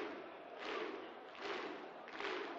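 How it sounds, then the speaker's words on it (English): Rhythmic Icelandic-style football chant from a darts crowd at the 2018 German Darts Open: three loud, evenly spaced collective shouts, about one every three-quarters of a second, over a steady arena murmur, with no commentary on top. "The Icelandic football chant from the crowd"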